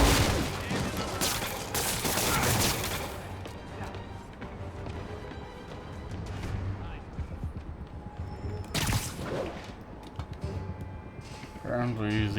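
Rapid gunfire in the Marvel's Spider-Man video game, a dense burst of shots up front and another sharp volley later, mixed with game action noise and a voice.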